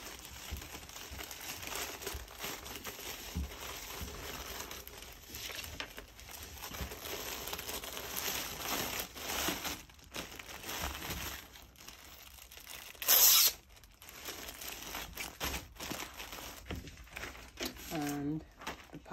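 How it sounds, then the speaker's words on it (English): Clear plastic packaging bag crinkles and crackles near the microphone while a small-business order is packed, with continuous rustling and tearing-like handling, a sharp burst partway through, and soft talking underneath. "And we've got the packaging clear bag."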